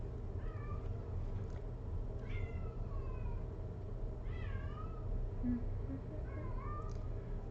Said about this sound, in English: Oh man, I can hear my cat screaming outside.